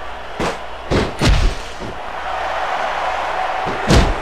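Heavy impacts from a chair in an indoor wrestling show ring land as several loud slams and thuds, spaced out over a few seconds against a steady crowd roar.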